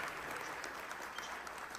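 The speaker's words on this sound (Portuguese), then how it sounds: "Uma salva de palmas para esse querido." A congregation at a church's 20th-anniversary celebration claps together in a sustained, fairly faint round of applause, even and crowd-wide, with no voices over it.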